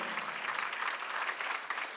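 Congregation at a Sunday church service clapping in praise to God, a steady wash of many hands applauding, fairly close and even, with no talk over it.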